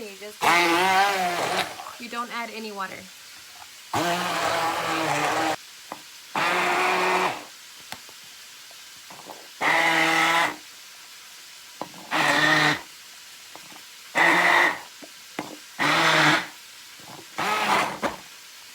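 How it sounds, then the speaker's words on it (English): A handheld blender purees tomatoes, onion and cilantro with no added water, running in repeated whirring bursts of a second or two separated by pauses, close and loud, with a voice talking between the pulses. "This is a fancy schmancy handheld blender."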